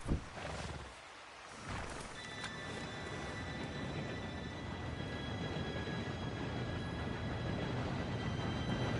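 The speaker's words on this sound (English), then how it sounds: "Train should be here any minute now." An approaching train in the Red Dead Redemption 2 video game, a broad steady rumble rising and thickening over several seconds with faint high metallic whine layered on top, no voices.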